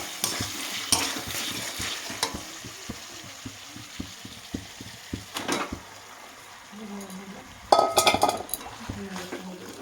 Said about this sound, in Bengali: ভালোভাবে নেড়ে চেড়ে নেব।